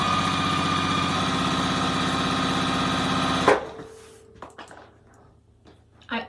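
A sewing machine chain-stitches quilt pieces at a steady, close running hum for about three and a half seconds, then stops abruptly, followed by quieter handling clicks and rustles.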